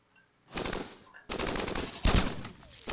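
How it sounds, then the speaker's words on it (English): Heavy cannons in the robot video game Cogmind fire a rapid volley, a dense burst of loud blasts from about half a second on, with a brief break and a sharper surge near two seconds. "let's just fire a whole bunch of black cannons"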